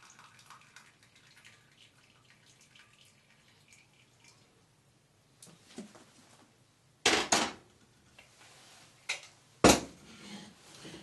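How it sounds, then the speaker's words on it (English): Leek and potato stock is strained into a jug, with mostly quiet dripping and trickling, then louder splashing pours and clinks of a pot against the jug near the end, close up, with no talk. "So I will going to strain the stock off into this jug."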